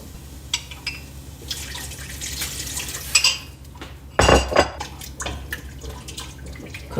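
A utensil stirs cornstarch into simmering potato soup in a cooking pot, with close metallic scrapes and clinks against the pot and wet sloshing, including one louder burst of clatter partway through, with no voices.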